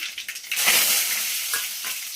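Cumin and mustard seeds are tempered in hot oil, bursting into a loud, close crackling sizzle that swells quickly and then keeps up a dense, steady hiss with a few sharper pops.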